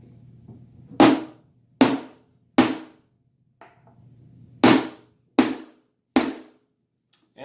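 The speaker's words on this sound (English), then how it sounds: "And then he's going to tap it and flare that out." Hammer tapping a metal pin to flare it on a case handle: six sharp, close metallic taps in two groups of three, each with a quick decaying ring, plus a faint light tick between groups.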